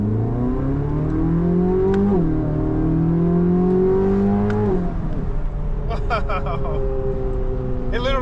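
A 2023 Chevrolet Corvette Z06 engine revving, loud and close, its pitch climbing twice in steady pulls before dropping back to idle, with brief mechanical clicks near the end.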